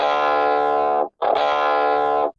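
Two sustained, heavily overdriven electric guitar chords ring out, separated by a short silence, thick and buzzing with distortion.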